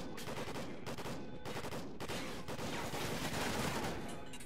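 Rapid close gunfire from Call of Duty: Ghosts on PS4, dense bursts of automatic shots in quick succession with brief gaps, loud and continuous over the whole stretch.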